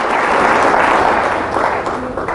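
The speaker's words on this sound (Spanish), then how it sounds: "Fuertes aplausos a Jesús de Nazaret." Loud, dense congregational applause in a church during a Catholic priest's sermon, a continuous close wash of clapping that holds steady throughout.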